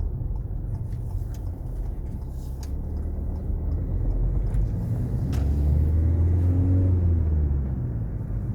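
A car driving on the road, heard from inside as a steady low engine and road rumble that swells slightly as it accelerates.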